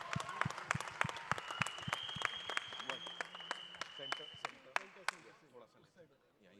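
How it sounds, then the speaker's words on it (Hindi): Scattered clapping from the audience at a film trailer launch, sharp individual claps spaced out and gradually thinning, with a voice talking over part of it and a sustained tone in the background. "एक बार जोरदार तालियां हो जाएं यार"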